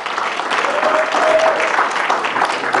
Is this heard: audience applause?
yes